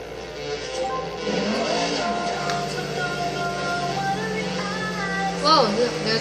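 A race car engine in a GT super car racing video game revs hard and sustained, with rising and falling pitch as it shifts and accelerates, loud and continuous.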